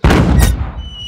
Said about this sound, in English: let's fire the cannon. 5, 4, 3, 2, 1, fire!